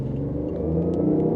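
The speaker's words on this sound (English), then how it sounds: "This car simulates engine sound on the inside." Simulated engine sound heard inside the cabin of a BMW i8 with a three-cylinder engine: a steady, smooth low rumble and hum, fairly loud and continuous with no talking.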